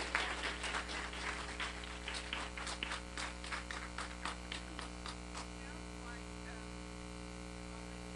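An audience applauds to welcome Reverend Dr. Martha Creek at a gathering, a scattered patter of clapping that thins out and fades over a constant electrical hum.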